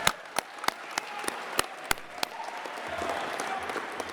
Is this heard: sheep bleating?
no